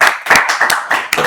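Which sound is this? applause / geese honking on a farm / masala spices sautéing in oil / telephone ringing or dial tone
applause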